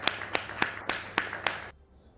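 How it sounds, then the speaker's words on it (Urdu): About six slow, evenly spaced hand claps, fairly close and distinct, stop abruptly into near silence. "یہ آپ نے تالیاں سن لی ہیں جی"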